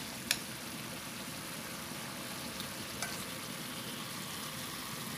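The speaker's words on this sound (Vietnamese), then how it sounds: "Hồi nãy giờ mình xào nấm được 5 phút rồi nè các bạn, nó đã chín rồi ha" Oyster mushrooms stir-fry in a pan with a soft, continuous sizzle throughout, broken by a few faint clicks of a utensil against the pan.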